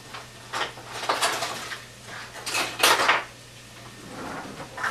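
A potato masher works through potatoes with milk and butter in a pot, giving a run of close scraping, squelching strokes in an uneven rhythm, with no talking.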